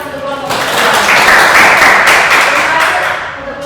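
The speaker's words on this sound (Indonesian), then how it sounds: "Oke, kita beri tepuk tangan untuk kelompok 2." A classroom full of students applauds a presenting group during a teaching practice session, the clapping swelling to a broad, steady wash for a few seconds and then tapering off.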